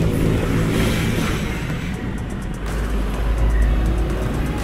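A car overtaking on the road, its engine and tire roar holding steady and close, with a low rumble swelling mid-way as it pulls past.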